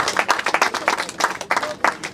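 An audience claps at a university project unveiling, with bursts of hand claps in an uneven rhythm, close and fairly loud.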